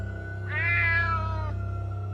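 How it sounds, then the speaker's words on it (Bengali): A cat lets out a single drawn-out, high meow at night, rising and then fading over a steady low hum. "পাশের রুম থেকে বিড়াল ডাকার আওয়াজ ভেসে আসতে শুরু করলো,"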